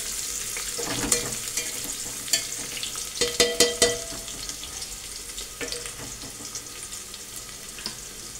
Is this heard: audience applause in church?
no